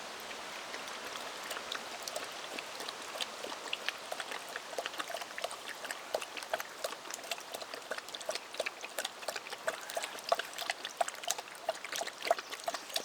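Water poured out for a dog to drink at a primitive overnight camp, a steady trickling and splashing stream with fine droplet patter throughout, fairly close, no talk over it.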